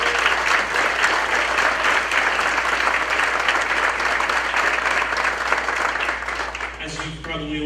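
An audience at an evening jazz concert applauds a guest artist joining the stage, a dense, loud sustained clapping that tapers near the end as a voice begins speaking.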